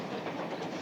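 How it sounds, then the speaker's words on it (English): A train rolls along rails with a continuous, moderately loud rumble and faint rhythmic clatter, heard alone without voices. "I'll bet you're the only kid in the country that drives a train home from school."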